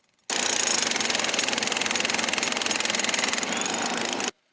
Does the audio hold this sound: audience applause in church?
no